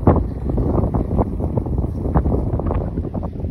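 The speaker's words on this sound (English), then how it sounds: "Look how windy it is, look at all the bushes." Strong wind buffets the microphone in continuous rough gusts at O'Neill Forebay, a loud low rumble with no voices.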